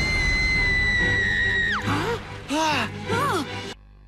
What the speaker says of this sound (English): But then Zoe screams!